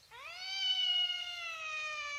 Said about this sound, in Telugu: మ్యావ్.